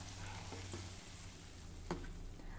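A hot garlic tadka is added to a cooked vegetable dish with the heat switched off, giving a soft, low sizzle with one brief sharp crackle.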